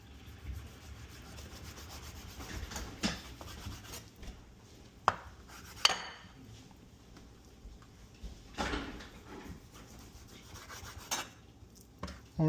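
Knife cutting vegetables for oxtail stew on a board, soft scraping and rubbing strokes with occasional sharper knocks, close and quiet, with no one speaking.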